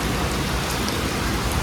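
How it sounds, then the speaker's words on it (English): Heavy rain pouring down outside a rest stop on an overnight bus route across Indonesia, a dense, loud, steady hiss of drops hitting surfaces, unbroken and with no voices. "it's raining like crazy outside"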